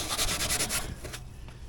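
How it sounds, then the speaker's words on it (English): A Scotch-Brite pad scrubs the blade mounting surface on a mower deck. Brisk, close rubbing strokes give way after about a second to quieter scraping. "Now I always like to clean up the mounting surfaces a little bit. Take a little Scotch-Brite"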